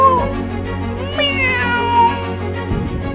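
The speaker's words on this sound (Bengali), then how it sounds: "একটা বিড়ালে পরিণত হল।" A cartoon cat gives a drawn-out, rising meow, loud and close over a steady hum of background music.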